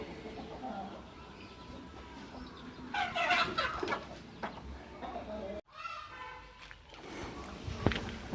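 Native chickens clucking and murmuring nearby in a coop holding newly hatched chicks, mixed with people talking, a creak and rustle, and a brief clatter near the end.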